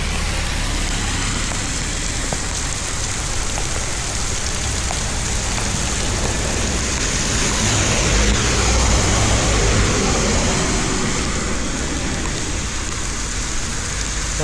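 Heavy rain pours during a bike ride, a close, loud and constant roar of drops, with a faint low engine-like hum underneath.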